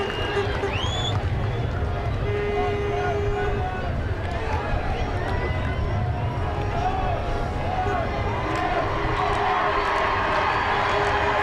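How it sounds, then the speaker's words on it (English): A large stadium crowd at the 2003 All Ireland Minor Football Final replay between Laois and Dublin roars and cheers steadily, with a commentator talking over the dense, continuous noise. "The crowd showing their appreciation for them"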